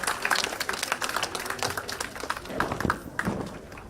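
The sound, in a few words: audience applause for a speaker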